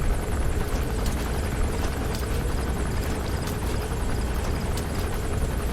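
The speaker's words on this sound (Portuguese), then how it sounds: "Que eu não quero que o helicóptero passe aqui e veja ele dormindo." In Metal Gear Solid V: The Phantom Pain, a helicopter makes a loud, steady rotor roar with constant chopping thrum throughout, with no voices over it.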